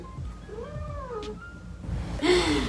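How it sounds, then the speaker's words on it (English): A cat meows in a long, wavering call, followed after a pause by another louder, drawn-out meow up close. "oh, my cat's in here. Hey, Nana. Meow."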